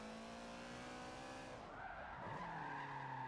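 A Subaru BRZ drifts in the video game Forza Motorsport 7, its engine holding a steady tonal drone while tires begin squealing and sliding partway through, the pitch shifting as the car skids.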